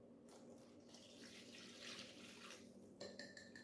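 Room temperature water pouring into a bowl for Detroit-style focaccia pizza dough, a soft continuous splashing stream at close range that swells midway, then ends with a few brighter clinks of a container.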